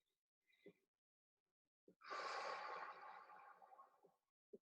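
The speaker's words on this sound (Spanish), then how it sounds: "Hacemos una última respiración profunda." One long, deep breath is taken, a soft inhale followed by a loud, drawn-out exhale through the mouth, framed by a few faint short breath noises in near silence.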